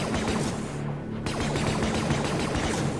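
An E-11 blaster rifle in a fan-made Star Wars zombie horror game fires in a rapid, unbroken stream of sharp shots, loud and close, with a brief gap partway through before the barrage resumes.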